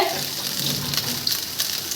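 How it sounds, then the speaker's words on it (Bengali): Mixed fried rice sizzles and crackles steadily in a hot pan, a close, continuous frying hiss with light stirring scrapes throughout and no talking. "ফ্রাই করা হচ্ছে ভাজা হচ্ছে fried rice mixed fried rice"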